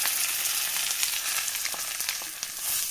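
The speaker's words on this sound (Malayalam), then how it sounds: "നല്ലപോലെ നമുക്ക് ഇളക്കി തേങ്ങയിലൊക്കെ ആയ ജലാംശം ഒന്ന് വറ്റിച്ചെടുക്കുക" Crushed coconut chammanthi stirred in a pan to dry out for Kerala-style beetroot thoran, giving a steady close sizzle with soft scraping strokes throughout, no voices.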